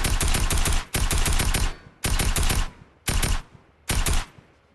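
A tactical assault rifle in Fortnite fires at a brick wall in five loud rapid-fire bursts, each about a second long, separated by short pauses. The shots are close and dominant, with no talking over them.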